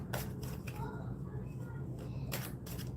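Tarot cards being shuffled and drawn by hand, with quiet, close riffling and light slapping bursts at the start and again near the end, and no talking.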